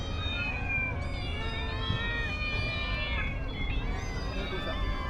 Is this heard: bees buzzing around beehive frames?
no